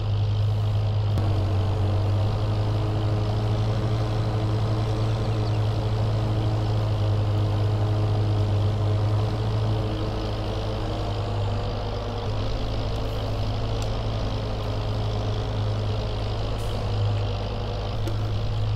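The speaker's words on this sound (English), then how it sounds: "Loving this tractor though, very responsive." Tractor engine in Farming Simulator 22, a steady low droning hum held at constant loudness throughout, with no speech.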